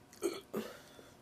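A woman lets out two short, soft burps in quick succession during a breakfast skillet mukbang, faint and close with quiet room tone around them.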